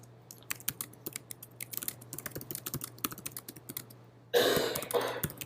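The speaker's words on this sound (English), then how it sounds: "Now, when I stop typing," Typing on a Mac computer keyboard during a group meeting: quick irregular key clicks close by over a steady low hum, ending in a louder rustling burst.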